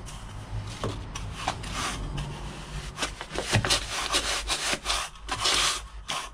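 Gritty scraping and rubbing as sand is spread and smoothed flat by hand while setting up a soil warming cable bed, irregular strokes close by with brief pauses.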